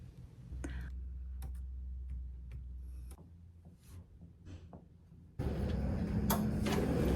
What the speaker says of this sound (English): So now I'm going to finally print out the things that I came here to print out.